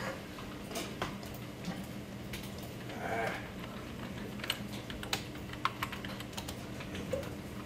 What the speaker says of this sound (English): I'm just clicking.